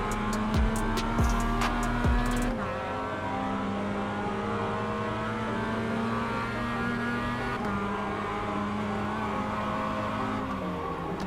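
A Mazda MX-5 race car in the iRacing video game revs and accelerates through gear changes on the Ledenon circuit, its engine tone climbing steadily, with a brief burst of rapid clicks near the start.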